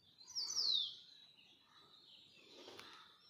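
A single bird gives a short, bright descending whistle, followed by fainter chirps in a quiet setting.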